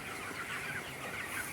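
A flock of 22-day-old broiler chickens kept on a raised slatted platform in winter, clucking in a dense, continuous chorus that stays at a steady level throughout.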